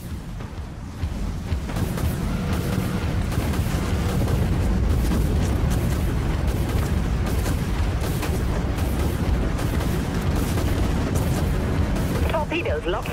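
Missile launches and impacts rage in the space-combat game Dreadnought as a dense, continuous rumble of loud booms and blasts, with a voice speaking intermittently over the barrage.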